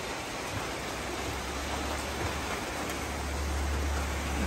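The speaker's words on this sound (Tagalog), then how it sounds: "Ayan, umuulan na." Rain falls outdoors under a cloudy sky as a soft, even hiss, faint and continuous with a low rumble beneath, no voices.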